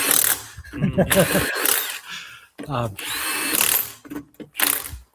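Short bursts of a power tool whirring and rattling as car tires are mounted, alternating with people talking close by; the tool noise starts and stops several times.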